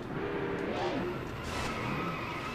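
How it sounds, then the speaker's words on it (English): NASCAR Heat 2 race cars collide on track, giving a dense, steady roar of engines with a brief scraping skid in the middle, loud and continuous for a couple of seconds with no talk. "now we've run into the back of Bois."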